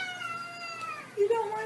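Cat meowing in rising, drawn-out tones, close and fairly loud, with a short sharper cry near the end.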